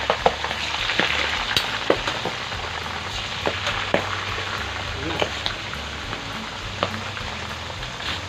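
Pork frying in hot oil for a spicy crispy pork dish, a dense steady crackle with scattered sharp spattering pops throughout, close and fairly loud, with occasional voice in the background.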